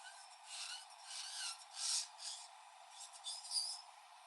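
Electric nail drill bit filing the surface of a fingernail during an encapsulated nail design, a quiet high-pitched rasping buzz in short strokes that rise and fall in intensity, close and alone.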